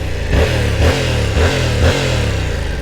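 A Yamaha R7's CP2 motorcycle engine revving up and down in repeated surges, loud and close, with a rough mechanical clatter between pulses.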